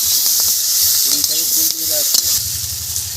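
Piring greens with turmeric fry loudly in a pan, a strong hissing sizzle that runs throughout, with a short stretch of voice over it.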